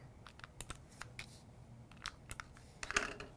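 A tape runner lays adhesive on the glue tabs of a paper graduation gift box, heard as faint, quick clicks and light scraping ticks in an irregular run, close and quiet.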